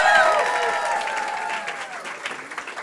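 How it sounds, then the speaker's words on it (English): Audience applause at a people's fashion show, a dense wash of clapping from a crowd filling the room, strongest at the start and slowly thinning, with some voices mixed in. "Let's give another round of applause for Fabiola."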